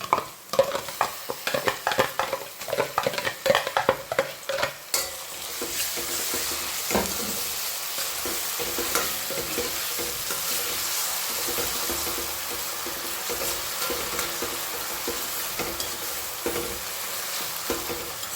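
Tomatoes frying with onions in a pan: stirring clatters and scrapes in quick bursts over the first few seconds, then a steady close sizzle with occasional light knocks.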